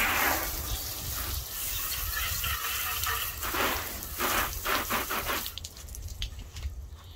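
Water sprays and splashes steadily at close range during truck detailing, a soft hissing rush with several brief bursts before it eases off toward the end.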